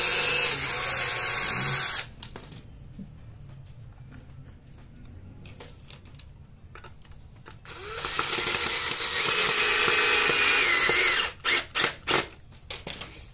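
Cordless screwdriver driving a screw into wood on a homemade drilling bench, a loud steady whir for about two seconds, then quieter handling, another long sustained whir, and a few short bursts at the end.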